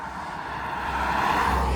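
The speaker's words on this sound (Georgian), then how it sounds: "რა ხდება რა იყო რა მანქანა იყო ის" A car passing along a residential street, its engine and tyre noise swelling steadily louder as it approaches, heard alone without voices.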